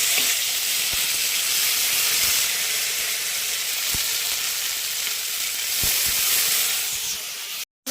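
A paste of cumin, coriander, ginger and green chilli fries in hot oil for a vegetarian gathikochu dish, a loud, steady hissing sizzle close up with a few faint clicks, cutting off abruptly near the end.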